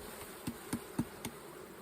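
Bees buzzing around a hive, a faint, steady drone broken by four evenly spaced soft knocks.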